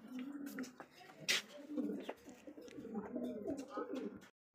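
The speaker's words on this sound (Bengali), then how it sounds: "একজোড়া টপ কোয়ালিটি, একদমই টপ কোয়ালিটি বিগ সাইজের মধ্যে বিউটি কবুতর ভাই।" A pair of big Beauty pigeons coo in low, throaty bursts close by, with someone speaking over them for much of the time.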